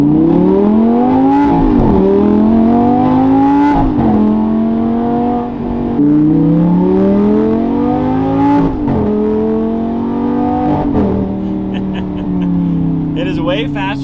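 A Lamborghini V10 engine revs and shifts while driving, rising in pitch through several gears with brief drops between them, loud and close inside the car throughout.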